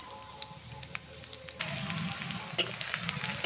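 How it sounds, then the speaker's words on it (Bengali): Mustard oil sizzles steadily in a pan as green chilies and onion fry, growing louder and denser partway through, with occasional light clinks and stirring sounds. "কাঁচা ঝাল পেঁয়াজ দিয়ে দিয়েছি"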